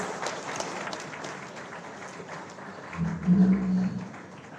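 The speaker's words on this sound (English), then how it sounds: "A huge round of applause for our chief guest, please." Steady applause from a convocation audience welcoming the chief guest at Dhruva College of Management, with continuous clapping throughout that swells louder near the end, while a low tonal hum sits underneath.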